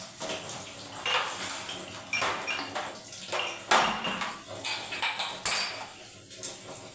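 Dishes, pots and cutlery clatter and clink near a kitchen sink during cleaning, a steady series of close, irregular knocks and chinks with some running water, no talk.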